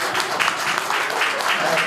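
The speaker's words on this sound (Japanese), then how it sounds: "大きな拍手を。" An audience at an anniversary talk event in Okinawa claps steadily for an introduced guest speaker, a dense, even wash of applause close by without pause.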